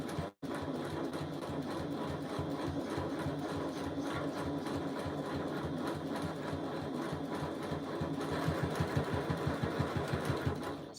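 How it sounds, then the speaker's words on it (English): A sewing machine runs a basting stitch around a bag lining in long continuous bursts, its needle chattering fast and evenly up close, with a brief pause near the start. No one speaks. "So I'm stitching again 1/8 of an inch, basting stitch, no back stitching, just around the outside to secure the lining"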